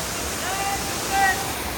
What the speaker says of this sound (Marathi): आणि ही धबधबा आहे मोठा, लय मोठा आहे.